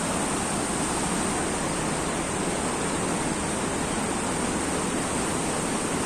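Fast, rushing river water flows beneath a bridge, a loud, steady broadband roar that continues without a break throughout.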